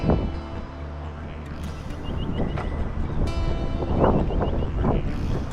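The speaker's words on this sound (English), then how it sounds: "You see the wind's blowing." Wind blows steadily across the outback of northwest New South Wales on a warm day, a continuous broadband rush with buffeting gusts against the microphone and a few faint knocks, with no voices.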